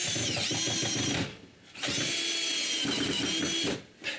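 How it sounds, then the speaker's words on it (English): A power drill bores screw holes in wood at a cottage, whining loudly in two close sustained runs with a short pause between and a brief final burst. "I have to drill some holes for the screws."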